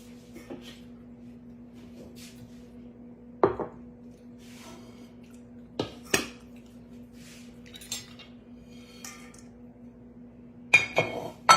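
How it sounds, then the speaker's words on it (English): A spoon clinks and scrapes against a bowl while broccoli salad is tossed, with a few sharp knocks spaced across a quiet room and a low steady hum beneath. "Use this spoon to flip them around a little bit. Toss it around"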